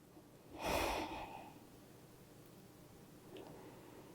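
A single deep breath during a yoga back bend, a close, breathy rush of air lasting about a second, followed by quiet and a faint second breath near the end, with no talking.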